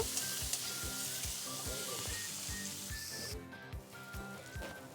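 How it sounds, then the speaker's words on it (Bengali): Potato and eggplant pieces fry with salt and turmeric in a pan, a steady close sizzle broken by repeated scraping stirs at a regular pace, no voices. "কেটে রাখা আলু আর বেগুনটা এটা একটু লাল লাল করে ভেজে নেব"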